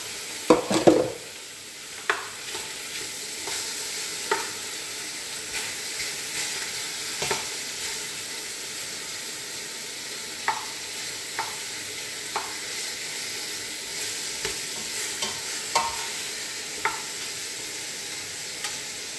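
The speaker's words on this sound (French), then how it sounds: "Donc on va mettre à colorer notre viande." Buffalo meat for a bourguignon sizzles steadily as it browns in bacon lardon fat in a pan, with a utensil scraping and stirring at irregular intervals, close and continuous with no talking.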